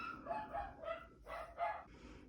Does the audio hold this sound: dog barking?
yes